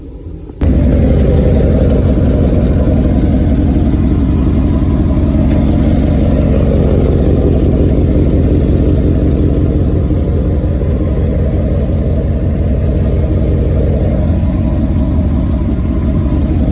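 A Dodge Ram pickup truck engine idles close by, warming up, a constant low rumble that holds evenly from start to finish with no talking.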